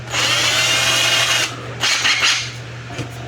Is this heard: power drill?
yes